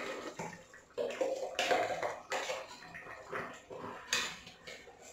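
Water sloshes and splashes as a mixer grinder jar is rinsed out in a home kitchen, a quiet irregular run of swishing and clinking against the jar.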